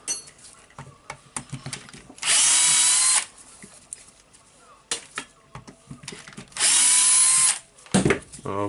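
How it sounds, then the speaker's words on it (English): Power drill driving out screws on the top cover of a Hitachi H45MRY demolition hammer, two loud whirring bursts of about a second each, separated by small clicks and handling noises close by. "we need to unscrew these four screws to open the top cover"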